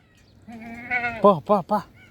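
Young lambs or goat kids bleating close by on a farm: one drawn-out bleat followed by three short, wavering calls in quick succession, with faint background noise.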